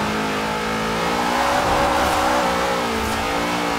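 A 1200hp Formula Drift car in Forza Horizon 4 revs loud and close, its engine note climbing and holding steady for a few seconds with no voices over it.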